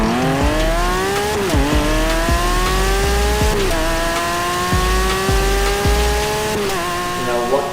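Naturally aspirated V12 in a Lamborghini Aventador SVJ with an aftermarket exhaust, loud and close, revving through repeated rising sweeps with sharp shifts and brief drops between pulls.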